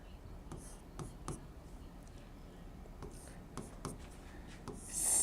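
Notes written by hand during a biology class, faint scratchy pen strokes coming in short irregular bursts over a low room hiss.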